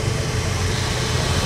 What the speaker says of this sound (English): A very early Ferrari.